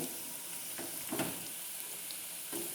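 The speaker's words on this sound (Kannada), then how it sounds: "ನೋಡಿ, ಈರುಳ್ಳಿ ಎಲ್ಲ ಚೆನ್ನಾಗಿ ಬೆಂದಿದೆ." Onions fry in hot oil in a pan, a soft, steady sizzle broken by a few brief stirring scrapes, faint and close.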